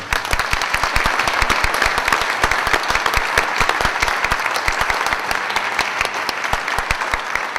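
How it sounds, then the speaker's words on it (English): An audience at an annual general meeting gives a sustained round of applause, many hands clapping in a steady, even wash at moderate loudness with distinct sharp claps throughout and no speech. "Please, everybody join me in a round of applause for Gail."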